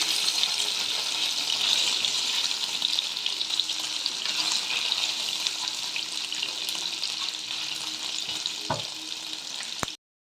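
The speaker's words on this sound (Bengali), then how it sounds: "যে পনিরগুলো কেটে রাখলাম সেগুলো আমি ভেজে নেব" Cut paneer pieces frying in oil for a shahi paneer dish make a continuous close crackling sizzle that runs steadily and fairly loud. A couple of sharp clatters come near the end before it cuts off.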